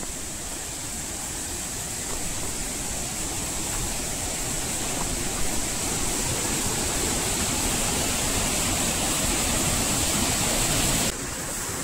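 A waterfall in Tansa Wildlife Sanctuary, Shahapur, heard from its upper side as a steady, loud, full-bodied roar of rushing water that holds unbroken for the whole stretch, with no voices.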